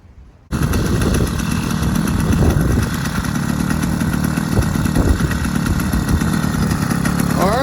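Small 50cc engine with a one-piece cylinder catches after a moment of quiet and then runs steadily, a loud, buzzy two-stroke drone that stays close and constant to the end.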